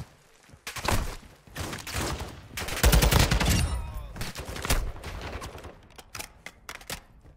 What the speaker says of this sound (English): There's someone sniping at me.